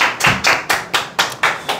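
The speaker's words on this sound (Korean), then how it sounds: "네, 박수." Applause from a seminar audience at a sales coaching lecture: about seven loud, evenly spaced bursts of clapping, close and in steady unison rhythm, with no talking.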